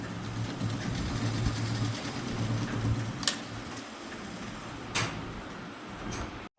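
Sewing machine stitching a palazzo pant along the leg seam, a steady low mechanical whirr running continuously with a couple of brief clicks, fairly close and alone without talk.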